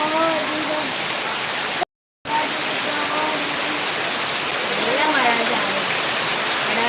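Steady rain hisses down under voices that talk intermittently; the sound cuts out briefly for a moment before the downpour resumes.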